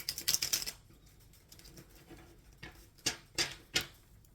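Tarot cards are shuffled by hand in a quiet room, a quick burst of crisp riffling flutters at the start, then a pause before several separate sharp card snaps and slides near the end.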